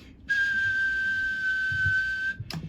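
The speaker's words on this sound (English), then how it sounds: "Give it a little bit of a whistle." A single steady, high whistled tone held for about two seconds into a CB radio microphone, clear and close, ending with a short breathy sound and a faint click.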